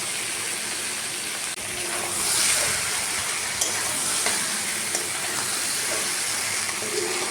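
Prawns and fried vegetables are stirred and sautéed in a masala, likely with a nutty paste, in a pan, giving a steady close sizzle with scraping stirs and a few light clinks.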